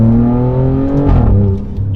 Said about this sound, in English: You get full sound, the exhaust fully opens.